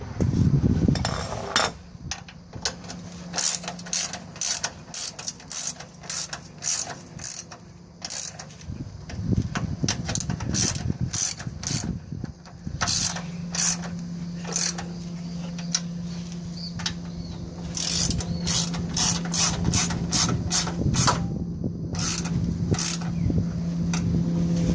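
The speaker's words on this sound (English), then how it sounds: "Then we could tighten our support bolt." Rapid metallic ratchet clicking in repeated bursts while tightening a stabilizer bar support bolt on a Nissan Navara D22/D21 Frontier, close and sharp, with brief pauses and some clanking of tools between runs, no talking.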